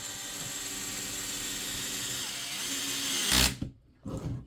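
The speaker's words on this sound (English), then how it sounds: "hear the clutch right there?" DeWalt drill whirring steadily at close range, then its clutch slips in a brief loud ratcheting burst near the end, followed by a short second spurt.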